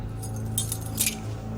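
Apartment keys jangle in two brief metallic bursts, near and bright, over a steady low hum.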